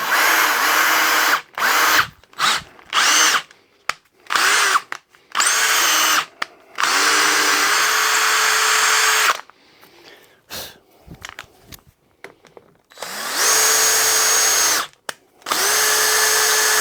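A power drill driving a bolt into wood while a finial is being made, loud whirring bursts of varying length that stop and start repeatedly, with short quiet gaps between them.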